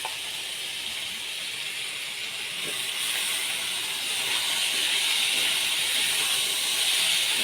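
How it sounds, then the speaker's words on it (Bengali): Soaked broken wheat (daliya) goes into a pan of fried vegetables for khichdi, setting off a steady, even sizzle with no other sounds. It grows slightly louder partway through. "এবার এর মধ্যে দিয়ে দেবো হচ্ছে ভিজিয়ে রাখা ডালিয়াগুলো।"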